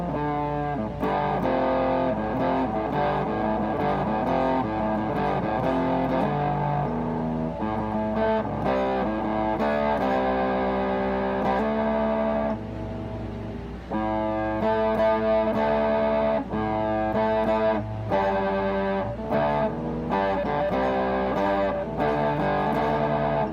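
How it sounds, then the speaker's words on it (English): An electric guitar played through a Vick Audio 73 Ram's Head fuzz pedal gives thick, distorted sustained chords and riffs, loud and continuous with brief pauses between phrases, no talking. "I was looking for a Fuzz overdrive pedal that would be fairly clean and articulate, but also give me that distortion I wanted"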